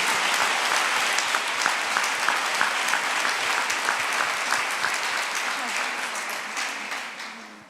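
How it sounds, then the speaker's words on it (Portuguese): A church congregation claps together in strong, dense applause that is loud at first and gradually fades toward the end, with a voice speaking briefly over it. "Uma forte salva de palmas para Jesus."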